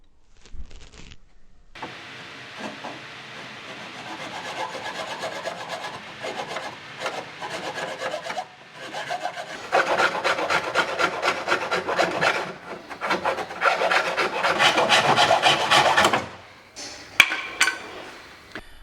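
Trimming material out of a car bumper's air inlet to fit a front scoop on an Astra H VXR time attack car, heard as steady rasping and rubbing strokes that grow louder and denser midway, with a sharp knock near the end.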